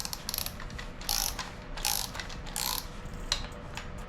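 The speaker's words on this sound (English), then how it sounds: "Just break these bolts loose." Ratchet clicking in short bursts while breaking loose thread-locked cam bolts on an LS engine top end, close and fairly quiet, several rapid pawl runs with pauses between.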